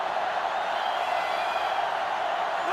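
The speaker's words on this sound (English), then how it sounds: "this crowd is going absolutely insane" A packed stadium crowd in the video game NCAA Football 2005 roars in a steady, loud wash of noise that swells slightly near the end, with no clear voices standing out.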